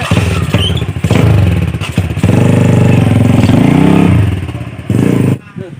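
An old motorcycle engine runs close by, loud and rough, with uneven revving and clattering bursts that steady into a sustained drone before cutting off near the end.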